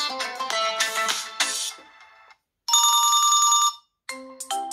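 Several short ringtones from a Tecno Camon 20 Pro phone play in turn, including a loud trilling electronic ring, separated by brief silences.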